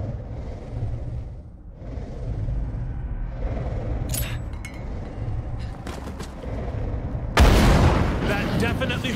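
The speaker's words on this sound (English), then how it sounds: "Napalm grenades." Napalm grenades go off in the zombie survival game State of Decay 2, deep booming blasts rumbling under continuous game noise, with a sudden louder burst of fire near the end.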